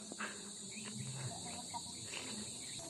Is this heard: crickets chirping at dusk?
yes